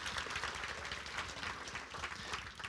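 Steady, fairly soft applause from a concert audience for the musicians, a continuous dense patter of many hands clapping at an even level throughout.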